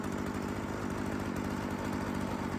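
Small old Craftsman chainsaw engine that sat unused for years, running steadily at a loud, close idle with a buzzing two-stroke drone and no break in the sound.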